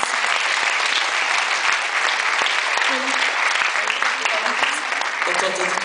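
An audience at a prize-giving ceremony applauds steadily and loudly, a dense sustained clapping lasting several seconds with some voices mixed in.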